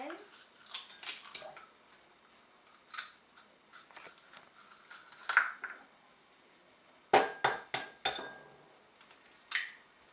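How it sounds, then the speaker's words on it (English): Eggs being cracked open for banana bread batter: scattered light clinks and taps against a bowl edge, then a quick cluster of sharp, close knocks near the end. "So you want to crack them open."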